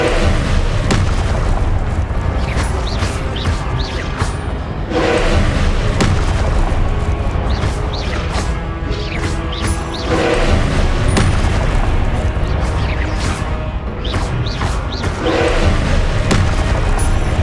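Spell blasts and explosions from the video game Hogwarts Legacy, a dense run of loud booming impacts and crackling bursts repeating every second or so, close and heavy throughout.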